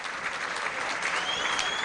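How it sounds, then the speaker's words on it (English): A football crowd at Burnley versus Plymouth Argyle gives a warm round of applause to a substituted player leaving the pitch, steady dense clapping filling the stadium for the whole stretch. "Wade Elliott going off to a very warm round of applause"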